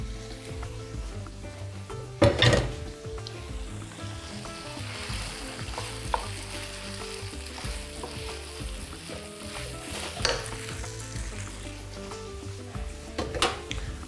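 Pasta tossed onto mushrooms frying in a pan for a pesto dish sizzles steadily and close up, with a few louder clanks of stirring against the pan.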